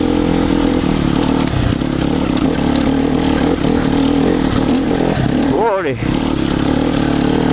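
An enduro dirt bike engine drones steadily on a muddy trail, with a brief sweeping change in pitch as it shifts down a gear, while a rider talks over it throughout.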